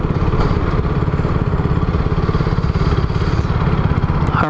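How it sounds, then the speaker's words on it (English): Heavy buffeting wind noise pours over the shell of a Klim Krios Pro motorcycle helmet with Koroyd while riding, a loud continuous roar with an engine rumble underneath. "the amount of wind noise that I get coming over the shell of this helmet"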